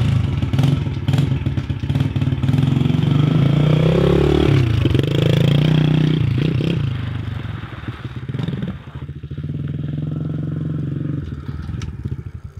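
A dirt bike motorcycle engine revs loudly and steadily, rising and falling in pitch, with clattering mechanical noise and a brief quieter dip before the engine picks up again.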